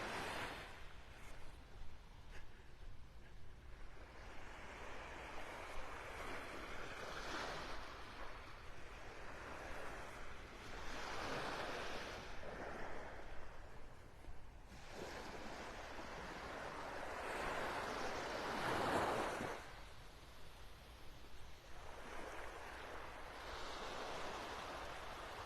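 Surf on Vanderbilt Beach in North Naples, Florida, with waves washing in and receding in slow surges under steady wind noise on the microphone, no voices.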